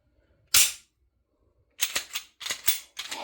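Shots from an S&W M&P Carry Comp pistol fitted with a DPM recoil spring: one sharp report, a pause, then a quick string of four or five close, loud cracks.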